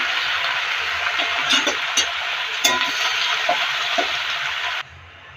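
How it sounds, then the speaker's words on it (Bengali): Red amaranth greens hit hot oil with fried garlic in a pan, giving a loud, steady sizzle broken by scattered stirring clinks, before it cuts off abruptly near the end. "এবার রসুনটা ফোড়ন দিয়ে তারপরে শাকটা দিয়ে দিব আর কি।"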